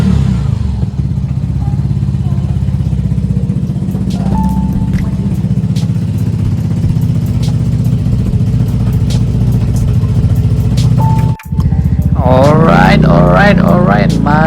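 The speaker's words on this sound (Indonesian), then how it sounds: "mungkin bakal nyobain motornya" A Vespa Matic scooter engine, freshly filled with new oil, idles in a steady loud drone that stays level for most of the stretch, then revs up near the end.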